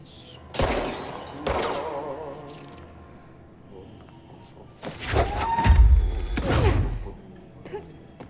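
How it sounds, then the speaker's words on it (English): Glass breaking in the video game Control, several loud shattering crashes in separate bursts, with quieter gameplay sounds between them. "I can basically break all this glass"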